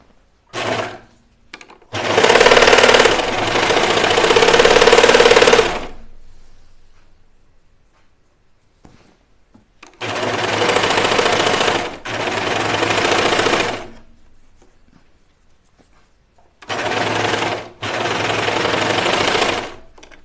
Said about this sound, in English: when you are sewing with your serger